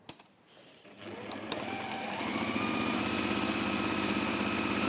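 A sewing machine stitches straight across the bottom of a fabric seam, its motor starting up and then running at a steady, fast, even whir close by, with no talk.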